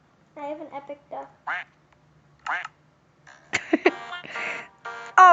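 Cartoonish duck quacks from a video game, several separate honking calls at varying pitch, loud and close, alternating with short bursts of talk.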